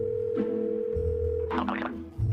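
A telephone tone sounds while a call is placed, a steady electronic hum with shifting pitched beeps layered over it, close and continuous for a couple of seconds.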